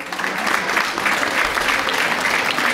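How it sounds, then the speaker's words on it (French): Audience applauding loudly at a group event for three activity leaders, a dense, steady wash of clapping that holds for the whole stretch with no voices over it. "qu'on va applaudir très fort"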